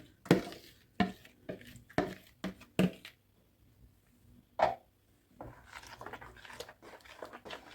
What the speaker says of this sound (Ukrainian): Розмішуємо.